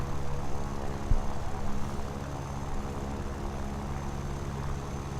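A MiG-3 fighter plane drones steadily through flight in the combat game War Thunder, its engine a continuous, even hum that holds at a moderate level throughout with no break.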